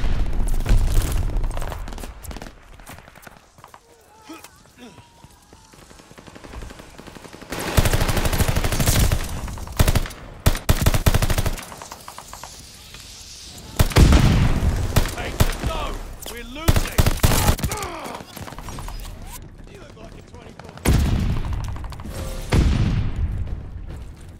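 Rapid automatic gunfire crackles in loud, repeated bursts with heavy booms between them, coming in waves of fusillades over a steady background, and voices can be heard at moments.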